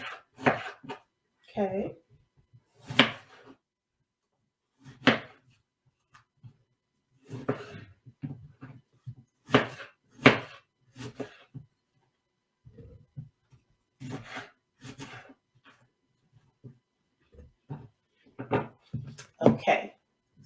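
A knife slices an apple into chunks on a cutting board, with irregular sharp chops and taps spread across a quiet kitchen, close and clear, while a voice speaks briefly.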